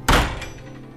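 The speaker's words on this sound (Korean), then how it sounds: "박사는 문을 쿵 하고 세게 닫고 나가버렸다." A door slammed shut hard, used as a sound effect in a Korean horror audio drama: one loud, heavy thunk with a short ringing decay and no voices over it.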